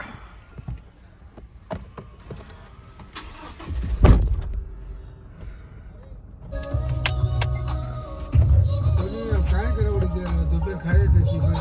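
A car engine cranks and catches after a visit to a temple, settling into a steady idle that hums on nearby, with a faint voice briefly audible.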